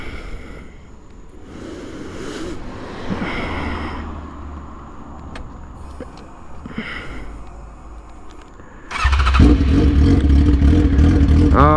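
A 2008 Suzuki GSX-R 1000 motorcycle with a straight pipe rumbles faintly, then erupts near the end into a loud, raw, sustained rev that dominates the sound.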